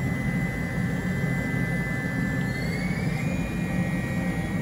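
A CNC machine decking the surface of a 799 LS cylinder head for a 5.3 LS build, a steady high whine with a droning low hum as the cutter takes a light gauge pass, without talk.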